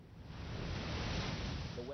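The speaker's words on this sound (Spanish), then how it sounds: "Las olas ya empiezan a enfurecerse." Stormy ocean waves off Yonaguni, Japan, roar as a steady broadband rush of surf mixed with wind, loud and continuous for the whole moment without any clear break.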